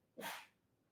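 A single quick, breathy sneeze bursts out, then fades into quiet room tone.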